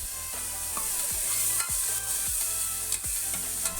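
Crushed tomato, garlic and ginger sizzle loudly in a pressure cooker, with a steady hiss and repeated scraping strokes as they are stirred. No one speaks.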